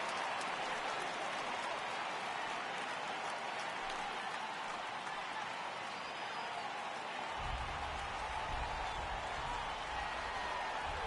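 A simulated ballpark crowd in the MLB The Show 18 baseball video game sends up a continuous roar during a Diamondbacks–Phillies game, with a low rumble that swells in the last few seconds as fans rise for a full count.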